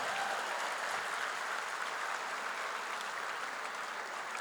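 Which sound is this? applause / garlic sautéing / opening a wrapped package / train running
applause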